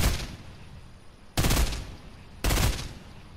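Video game shooter gunfire in three loud, sharp bursts, each decaying into a rumbling tail and separated by roughly a second of lower background noise, with no talking.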